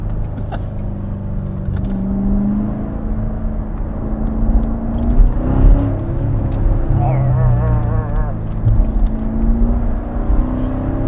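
Corvette C7 Stingray with a big engine, heard from inside as a steady low rumbling drone with some revving swells throughout, while people talk over it.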